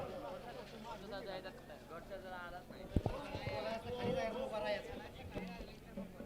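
Bullocks galloping with a cart in a village bullock cart race, rapid hoofbeats pounding under a loud commentator's voice and crowd chatter, with a sharp knock midway.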